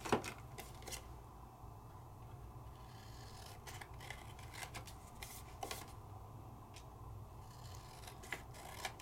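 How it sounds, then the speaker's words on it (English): Scissors cutting out small paper stamps for handmade gifts, with repeated soft snips, rustling and scraping of paper close by at a low level, and no talk. "All I'm using is scissors."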